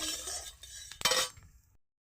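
Ginger and slit green chillies dry-roasting in an ungreased pan, ahead of a bottle gourd and prawn curry, stirred with a few soft scrapes and clinks of a utensil against the metal, with a brief louder stir near the middle, then quiet.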